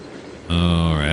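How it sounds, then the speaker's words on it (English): Freight train from Trainz 2022 rolling by as its tail end of empty bulkhead flatcars approaches: after a quieter rumbling start, a loud steady mechanical roar with sustained tonal hum and whine swells in and holds. "Here's the end of the train coming now."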